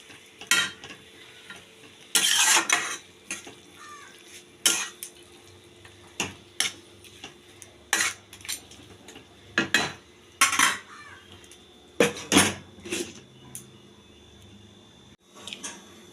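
Cabbage and fish head stirred in a pot, with repeated clanks and scrapes of a metal spoon against the pot in uneven bursts over a faint sizzle, loud and close, no talking.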